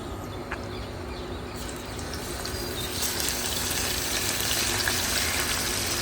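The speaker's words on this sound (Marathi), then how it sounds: "तेल घालून घेवया." Oil pours into a heated pan for Goan prawn molho, making a steady gushing hiss that grows louder and fuller midway through. No voices are heard.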